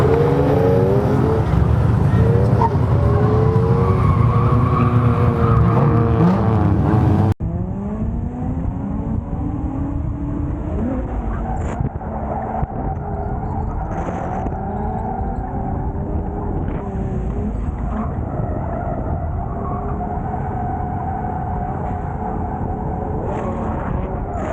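A Nissan Z drift car spins a 360, engine revving and tires skidding loudly with shifting pitch, then the car drones on more steadily after an abrupt change partway through, close and continuous.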